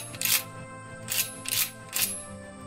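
A modern trench-style pump shotgun is racked repeatedly at close range, giving four sharp metallic clack-clack bursts spaced roughly half a second apart over a faint background.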